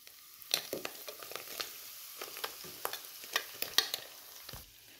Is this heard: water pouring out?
no